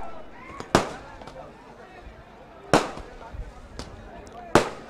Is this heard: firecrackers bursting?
yes